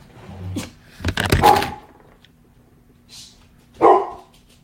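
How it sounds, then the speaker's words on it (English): Two pet dogs bark at home in sharp, close bursts, a cluster of loud barks followed by a pause and one more bark, with a brief whimpering yip between. "Those are my dogs."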